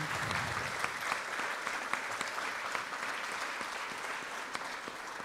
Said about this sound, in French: Je vous demande d'applaudir, M. Andréani.